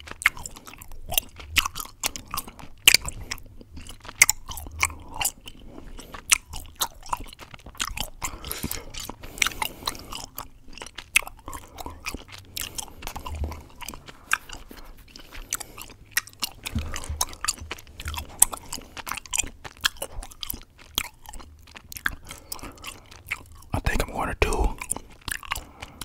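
Hi-Chew fruit candy chewed close to a microphone, with steady wet, sticky chewing and soft squishing sounds repeating throughout, intimate and fairly quiet with occasional soft whispered talking mixed in.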